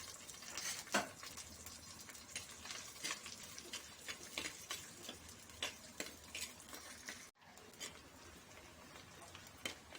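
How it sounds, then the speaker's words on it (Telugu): Onions fry in a pan for a goat trotter soup, a soft, quiet sizzle with frequent light clinks and scrapes of a stirring spoon, briefly cut off near the end. "ఉల్లిగడ్డ ఫ్రై అవుతుంది"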